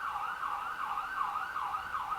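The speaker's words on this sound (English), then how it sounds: "Alright, gotta let the siren go by." An ambulance siren passing by outside wails in a repeating rise-and-fall pattern, heard through an open window, moderately faint and somewhat distant, with no voices.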